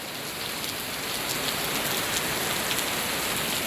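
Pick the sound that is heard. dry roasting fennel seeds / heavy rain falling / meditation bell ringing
heavy rain falling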